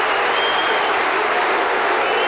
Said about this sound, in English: The crowd for going berserk.